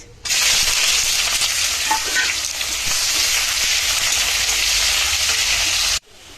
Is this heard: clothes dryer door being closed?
no